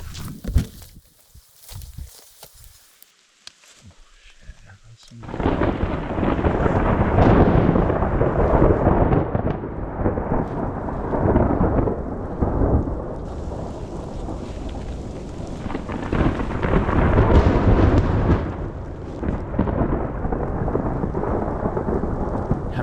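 Heavy rain pours steadily through a mountain thunderstorm, with deep rumbling thunder rolling through after a quiet opening, loud and continuous to the end.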